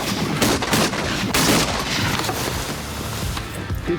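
Shotgun blasts fired at incoming teal ducks on a hunt, a rapid volley of several loud, sharp booms in the first second and a half, followed by ringing outdoor noise and a couple of fainter later reports.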